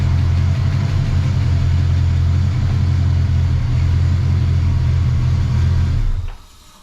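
A race car engine idling after an oil change, a loud, steady low rumble running close and unbroken before it cuts off abruptly near the end.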